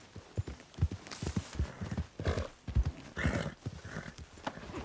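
Black Arabian horse in Red Dead Redemption 2, irregular hoof clip-clops and snorting breaths with a short whinny-like burst, moderately close and fairly quiet.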